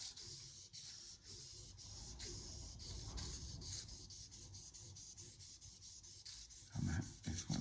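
Steady hand rubbing of polish along a katana blade during restoration of a war-relic sword, a continuous close rasping friction with rhythmic strokes, growing louder and heavier toward the end.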